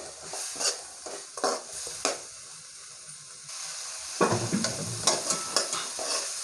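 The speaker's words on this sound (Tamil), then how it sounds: "இவற்றை நன்கு வதக்கிக் கொள்ளவும்." Tomatoes and spices sautéed in a pan for a village-style fish curry, with scraping stirring strokes in two bursts over a soft sizzle, close and fairly quiet, no talk.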